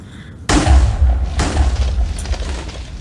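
A TNT cannon fires on a ship in the game Minecraft, with a loud booming blast followed by a second explosion and a long, rumbling tail.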